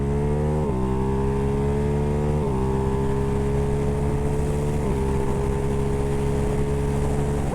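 A Ducati Hypermotard 698 Mono single-cylinder motorcycle being ridden, its engine droning loud and steady with harmonic tone and gear shifts marked by brief pitch drops, no talk over it.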